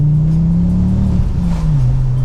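The 2.5L turbo Ford Mondeo's engine pulls hard in second gear, a loud, close, deep droning growl with a slight pitch rise and dip as it accelerates, with no voices.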